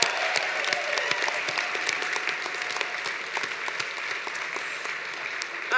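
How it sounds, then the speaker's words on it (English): A gala audience applauds the MC with steady, dense clapping and a few cheers, sustained at moderate loudness throughout and swelling slightly at the end. "how about a round of applause for Maggie?"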